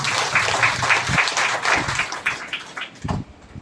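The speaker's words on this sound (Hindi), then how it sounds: "चले जोरदार हम लोग ताली बजाएंगे" A church congregation claps together during a Hindi-language Christian service, many hands striking in a fast, roughly rhythmic beat that stays fairly loud and continuous before thinning out near the end.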